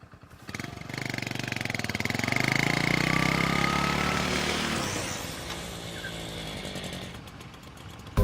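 A motorbike engine idles and then revs to a loud, steady buzzing drone close by, easing off slightly before ending with a sharp knock.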